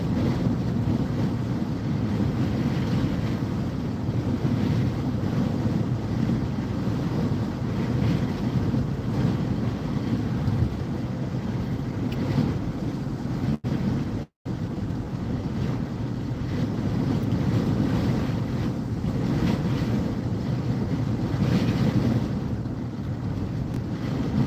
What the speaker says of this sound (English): A lot of wind, I think, left to right now.